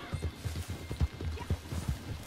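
Hoofbeats of a horse in Red Dead Redemption 2, an uneven rhythm of muffled thumps and clops over a couple of seconds, fairly quiet.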